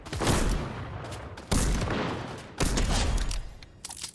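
Gunfire in the video game Fortnite, three loud bursts of rapid shots and booms, each starting sharply and fading, with a quick rattle of shots at the very end.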